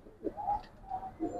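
A Giribaz pigeon coos softly in close, repeated low throaty phrases, three or four rounded coos in a quiet setting.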